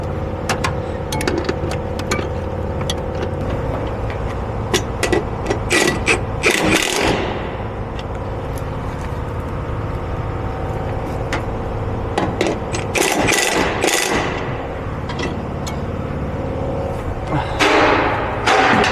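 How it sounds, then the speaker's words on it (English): A ratchet tightens a bolt with a 19 mm socket while an Agile Off Road RIP kit goes onto a Mercedes Sprinter van, giving bursts of quick metallic clicking between knocks and clunks against a steady low hum. "I'm gonna go with a 19 on a ratchet to counter hold that top while tightening this one."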